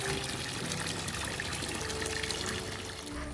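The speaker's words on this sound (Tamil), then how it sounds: "நான் அப்படியே அதிக்குட்டி மேலே ஓஸ் பைப் வச்சு தண்ணி ஊற்றி விளையாண்டுக்கிட்டு இருந்தேன்." Water from a hose pipe pours steadily over a child at outdoor bath time, a close, continuous rushing splash with no talk.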